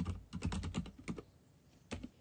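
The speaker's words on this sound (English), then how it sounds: "now what you want to do is just type in your username or email" Typing on a computer keyboard: a quick burst of close, crisp key clicks, a pause, then a lone keystroke near the end, with no voices.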